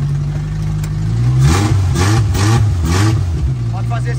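A Volkswagen Variant with a Subaru engine and electronic throttle idling, then revved hard in a few quick blips before settling back, close and loud.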